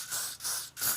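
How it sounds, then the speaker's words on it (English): Three short hisses of L'Oreal Elnett light-hold hairspray from an aerosol can, in quick, even bursts, close up and with no talking. "and I'm just going to spray a little bit"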